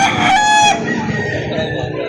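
A rooster crows loudly and close at a chicken livestock market in Laguna, with clucking fowl and a busy background hum continuing after the crow.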